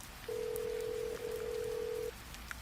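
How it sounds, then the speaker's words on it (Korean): A phone call is placed to a home at night, and a single steady electronic ringback tone sounds for nearly two seconds, clear and sustained over a faint background hiss. "집으로 전화를 걸었습니다."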